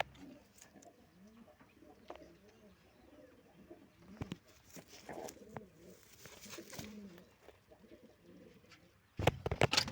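Pigeons coo repeatedly inside a loft, soft low rolling calls scattered throughout, with wing flutters and a loud burst of clattering activity right at the end.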